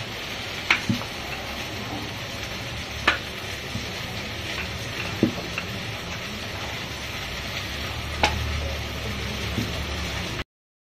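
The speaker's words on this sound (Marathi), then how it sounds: "एकीकडे आपली भेंडीची भाजी होत आहे" Okra curry sizzles and fries steadily in a pan. The hiss stays close and even, broken by occasional sharp clicks of a utensil, with no talk.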